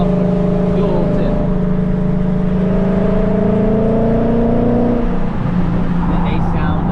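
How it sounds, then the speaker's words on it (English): A Ford Mustang S197 with Cook's headers, X-pipe, resonators and a dual-tip Corsa Sport muffler runs with a loud, steady engine drone that shifts pitch slightly before easing off near the end. "I have the Cook's headers to an X-Pipe, resonators, and then a Corsa Sport"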